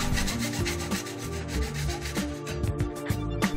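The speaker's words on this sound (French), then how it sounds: "Puis, nous limons les bords pour enlever les imperfections." Rhythmic back-and-forth strokes of a file rasping the cut edges of a PVC tube, close and fairly loud, roughly eight to nine scrapes in quick succession.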